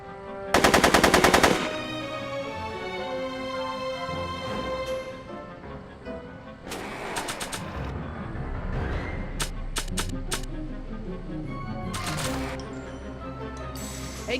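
Video game gunfire with a rapid automatic burst at the start followed by several shorter rattling bursts and single cracks over a busy background of game music and effects.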